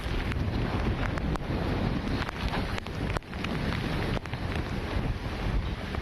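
Strong wind roars constantly across the microphone, rising and dipping in heavy gusts.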